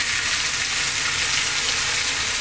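Chopped tomato hitting hot oil in a pan of pumpkin curry, giving a loud, steady, close sizzle of frying that carries without a break and has no talking over it.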